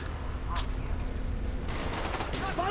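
Rapid gunfire and bursts of shots from the Call of Duty Black Ops video game, sharp cracks popping over a constant busy battle din, with a voice faintly heard in the mix.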